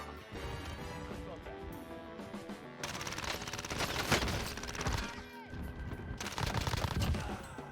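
Rapid bursts of gunfire in the video game Warzone crackle in dense volleys, pausing briefly and then resuming loudly, with a player's voice talking over the shooting.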